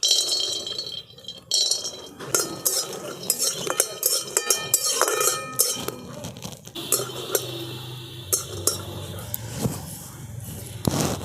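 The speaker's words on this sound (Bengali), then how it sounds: "আমি শুকনো কড়াতে এই চীনা বাদামগুলোকে ভেজে" Peanuts are dry-roasted in a wok over a lit stove, with irregular clinks, scrapes and rattling stirs against the metal pan, close and moderately loud, with quieter stretches between bursts.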